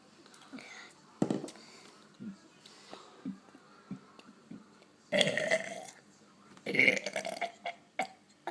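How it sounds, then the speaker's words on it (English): A young boy lets out a series of loud, throaty burps, some long and drawn out, spaced between quieter voice sounds and short vocal bursts. "Do a big burp."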